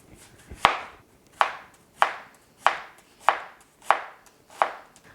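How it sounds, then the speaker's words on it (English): A knife slices through an onion on a cutting board in seven crisp, evenly spaced chops, each a sharp close thud with a short tail, no voices. "And then I'm going to be slicing up 1 onion."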